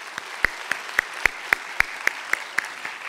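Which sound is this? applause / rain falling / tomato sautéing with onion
applause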